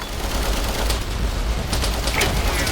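Loud, dense rapid gunfire in the video game Easy Red 2, a continuous rattling barrage with sharp cracks over a low rumble, no voices.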